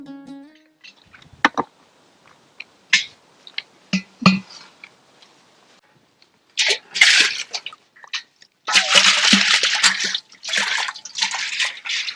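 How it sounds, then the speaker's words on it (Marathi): Water filling a container or tub in a home, starting with light drips and clinks, then a steady gushing pour that stops and restarts, loud and close with no talking over it. "पाणी भरायचं चाललंय काय"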